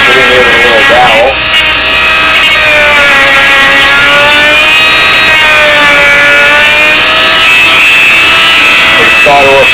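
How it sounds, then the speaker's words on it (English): Quarter-inch square spruce braces having their edges radiused with hand tools, a continuous loud rasping, scraping sound that runs steadily throughout with slight wavering in pitch. "Radiusing off the edges of all these 1/4 inch square spruce braces."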